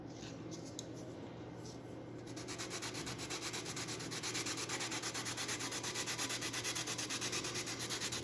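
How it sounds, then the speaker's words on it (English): A sanding block is worked over a repair on a DLG glider, smoothing it down. Steady, rhythmic rubbing strokes sound soft and close, quickening slightly as they go. "I'm going to sand this all nice and smooth with my sanding block"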